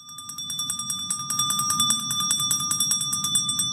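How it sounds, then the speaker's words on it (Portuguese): A small bell in a classroom-themed open-world game rings out in a rapid run of bright, repeated strikes, steady and fairly loud throughout, with a low murmur of background noise beneath. "toda vez que esse sininho toca"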